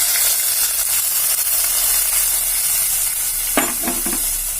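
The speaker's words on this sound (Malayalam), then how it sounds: "നമ്മുടെ പച്ചടിയിലേക്ക് ഈ കടുക് താളിച്ചത് ഒഴിച്ചു കൊടുക്കാം." Mustard seeds tempered in hot oil hiss and sputter as they are poured into pineapple pachadi, a loud, steady close-up sizzle with a few brief clatters toward the end.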